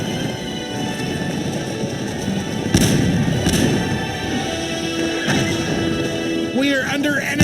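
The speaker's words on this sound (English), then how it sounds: "We are under enemy gunfire" Rifle volleys crackle through a Cossacks 2 battle between Poland and Russia, steady popping fire under a game voice announcement, with a couple of sharper, louder shots standing out near the middle.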